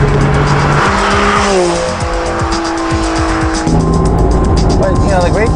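Honda NSX sports car with close to 400 horsepower at the flywheel, engine revving hard as its tires squeal and skid in long sliding tones, loud and close, with a voice talking over it.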